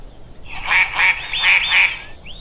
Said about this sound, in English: Who can make a quacking noise?